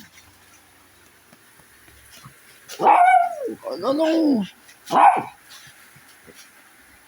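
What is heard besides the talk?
dogs barking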